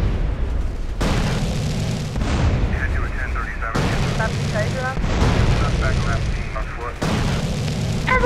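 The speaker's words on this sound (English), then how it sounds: "Ever heard of dual-wield weapons?" Dual-wielded guns firing in GTA San Andreas, a loud continuous barrage of gunshots with booming blasts layered over constant game noise, the sound shifting in sections over several seconds.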